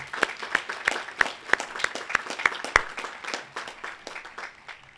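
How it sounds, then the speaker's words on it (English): An audience at a commencement ceremony applauds with sparse, distinct claps ringing out near and fairly loud over a softer bed of clapping. "So let's give them a round of applause,"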